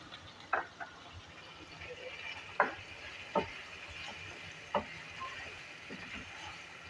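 Onion frying in a pan for beef karahi makes a soft, faint sizzle. A handful of sharp stirring clicks are spaced a second or so apart.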